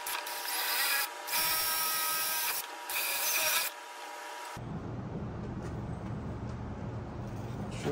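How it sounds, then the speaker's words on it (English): A power drill whines at high speed in three short bursts while drilling stop holes in a cracked fiberglass boat cowl, then a lower, rougher grinding hum continues steadily. "drill some holes to just stop the stress"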